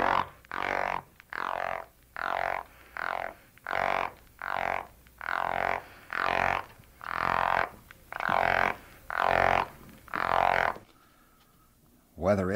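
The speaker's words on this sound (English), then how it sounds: "This is a sound produced by a male Florida gopher frog when seized by another male." A male Florida gopher frog gives a warning croak when seized by another male: about a dozen loud, rasping pulses in a steady rhythm, close and alone, then a brief quiet stretch.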